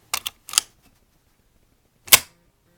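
Bolt of a KWA H&K MP7A1 airsoft gun being worked, giving a few sharp close mechanical clicks and clacks: a quick pair, then another, and a single louder clack after a pause.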